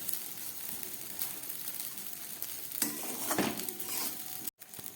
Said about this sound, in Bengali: ঘি দিয়ে ভেজে চিড়ের কাঁচা গন্ধটা চলে গেছে